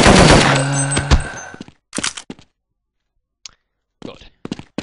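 A machine pistol fires a rapid, loud burst in the video game They Hunger. Sparse clicks and short mechanical sounds follow in otherwise quiet gaps.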